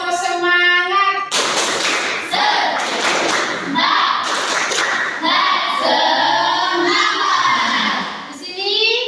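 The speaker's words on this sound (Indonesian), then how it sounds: "Tepuk semangat dulu ayo, udah siang ini." A school class in a coding and artificial intelligence lesson performs the tepuk semangat ice-breaker, loud rhythmic group clapping mixed with children's voices chanting along, continuous and energetic for about nine seconds.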